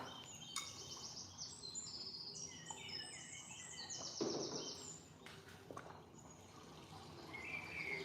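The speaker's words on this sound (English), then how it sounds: "Can you guys hear like the water and the bird and nature sounds?" Outdoor nature ambience with several birds chirping and trilling in overlapping bursts over a steady wash of flowing water, moderately quiet throughout with no talking.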